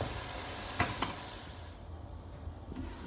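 Tomato masala frying in a pan for gobi aloo, a steady close sizzle with a couple of sharp stirring clicks early on, easing slightly in the second half.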